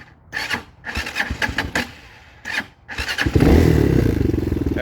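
A 2019 Hawk 250cc motorcycle being shut off and restarted: a few clicks and rustles of key and switch handling, then the engine cranks and catches into a steady, close-miked idle rumble.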